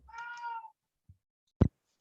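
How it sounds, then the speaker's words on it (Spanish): A single clear, close meow from a kitten, followed after a pause by a soft tap and a louder thump nearby. "El gatito."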